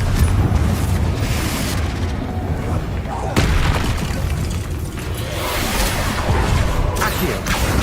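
Repeated booming blasts from the Confringo explosion spell in the Hogwarts Legacy video game, loud and dense, with sharp bursts around the middle and end amid continuous game noise.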